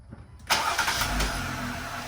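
A Jeep Rubicon engine turns over quickly and fires, then settles into a smooth, fairly quiet idle close by.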